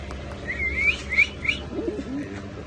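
Soft, low cooing of Pakistani Teddy pigeons close by, mixed with a few quick, higher chirping calls.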